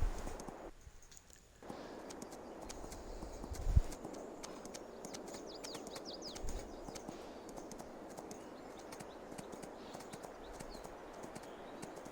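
Horse hooves walking in Farming Simulator 22, a soft steady clip-clop of steps at an even pace with faint birdsong around, quiet and fairly close.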